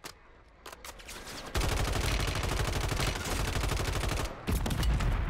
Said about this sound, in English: I heard somebody shoot.